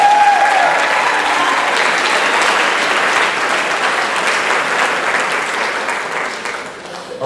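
Warm, continuous applause from a seated audience at a high school band banquet, many hands clapping evenly throughout and tapering slightly toward the end.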